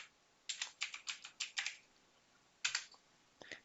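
Keys clatter on a computer keyboard as an address is entered into a browser, a quick run of about eight close clicks, a pause, then a few more taps, quiet and alone.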